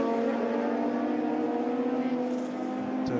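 Race cars, including a Ferrari, run at the Qatar Classic Challenge race, a loud sustained engine drone with steady high-revving pitch lines holding across the whole stretch.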